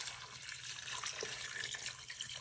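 Apple cider from a 64-ounce container poured into an 8-quart crock pot, a steady liquid splash and gurgle that runs unbroken and fairly quiet with no talking.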